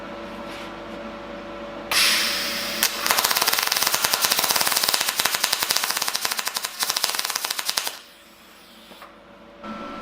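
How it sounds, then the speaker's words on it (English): Freehand test weld on steel: a steady loud crackling, sizzling buzz with rapid popping, running about six seconds close by, preceded and followed by quieter background hum. "Well, that's my little test weld there"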